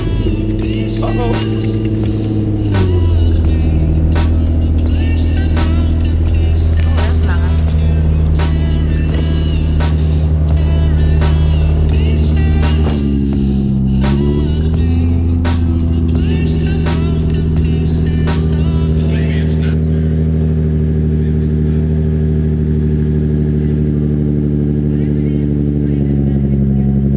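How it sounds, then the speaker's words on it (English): A Nissan 350Z engine idles steadily while warming up, a loud continuous hum with a couple of brief dips and rises in pitch, and faint clicks and clatter over it. "let's go ahead and get it started and let her warm up some"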